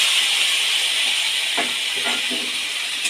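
Spice paste goes into hot oil with a little sugar, producing a steady, bright hiss and sizzle close up, with a couple of soft stirring knocks.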